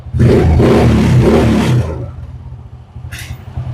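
A classic motorcycle engine revs with a loud, rough roar held for nearly two seconds, then drops to a lower idle rumble as the motor settles.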